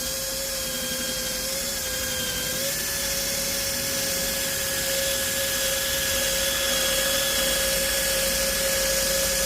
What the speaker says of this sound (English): I like to use my cordless drill if it's a windshield.